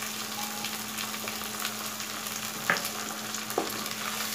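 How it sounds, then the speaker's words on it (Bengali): Onion paste with ginger-garlic and green chili paste frying in a pan, a steady close sizzle with a faint hum beneath and a couple of sharp clinks from a stirring utensil, no talk. "দিয়ে মশলাটাকে ভালো করে কষাবো"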